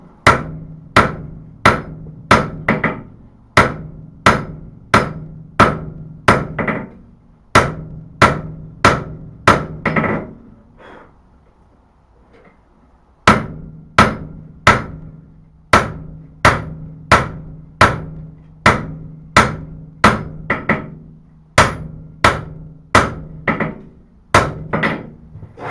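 A hammer forges a knife blade preform on an anvil, striking in steady rhythmic runs of sharp metallic blows, loud and close, with a pause partway through before the hammering resumes.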